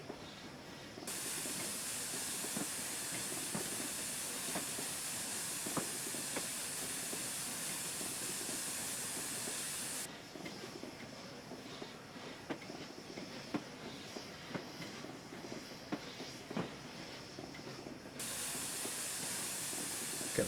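Steam locomotive Tornado 60163 in a train simulator game hisses steadily, a loud continuous jet of steam that briefly drops away midway and then returns, with faint mechanical clanks beneath.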